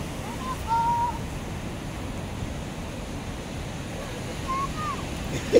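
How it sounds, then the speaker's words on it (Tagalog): Ocean waves roll and wash in a steady broadband roar, with gusty wind buffeting the microphone and faint tonal sounds now and then. "Habang malalaki pa ang alon."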